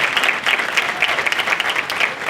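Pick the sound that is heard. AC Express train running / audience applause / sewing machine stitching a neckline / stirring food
audience applause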